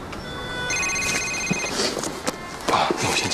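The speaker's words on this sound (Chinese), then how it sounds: "那我先接个电话。" A telephone rings in a TV drama scene, its bell trilling in repeated bursts at moderate volume under faint room sounds and movement.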